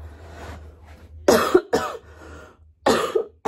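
A person coughs several times in short, sharp bursts close to the microphone, with quiet gaps between fits.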